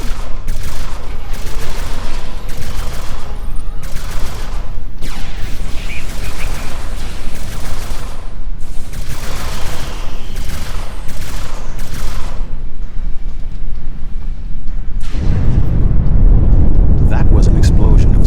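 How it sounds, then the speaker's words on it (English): Explosion and gunfire from the Star Trek Online video game during a battle with Voth soldiers: dense rattling bursts of shots throughout under speech, ending in a heavy, loud, low rumbling blast. "That was an explosion of sufficient magnitude to cause a breach."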